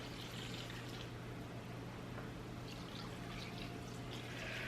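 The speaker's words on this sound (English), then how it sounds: "I got 2 cups of a nice red wine and 2 cups of Sauvignon Blanc. The red wine I used is Pinot Noir" Red Pinot Noir and white Sauvignon Blanc wine poured into a roast beef dish, a steady soft liquid trickle and splash running throughout over a low constant hum, close and moderately quiet.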